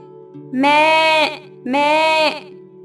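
A goat bleats twice in close succession, each call loud, near and drawn out for about a second, with a faint low hum underneath.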